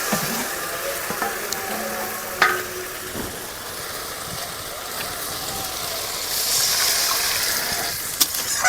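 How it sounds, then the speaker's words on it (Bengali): Water splashed into a hot pan of well-fried, oil-releasing spice paste for a boal fish curry, giving a steady broadband sizzle with a few scraping clinks, swelling louder toward the end. "এবার আমি জল দিয়ে দেবো"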